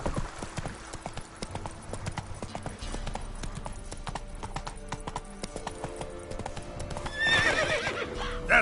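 Roach, the horse in The Witcher 3, gallops with steady, rapid hoofbeats that carry on throughout, and a whinny rises near the end.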